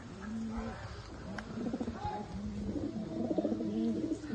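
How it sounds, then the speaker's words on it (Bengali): A pair of just-released pigeons from a fancy-breed collection in Chinsurah coo softly nearby, low rolling calls repeating in short bursts, clearer and busier toward the end. "সেটা এই যে ছেড়ে দিলাম পায়রাটা, দেখো জোড়াটা"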